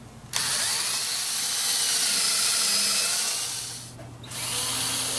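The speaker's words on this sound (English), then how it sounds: "we'll use a 1/4-inch bit for our pilot holes" A power drill with a 1/4-inch bit bores pilot holes for 3/8-inch lag bolts into a log light base. A loud, steady high whir starts abruptly, dips briefly near the end, then resumes, close and without talk.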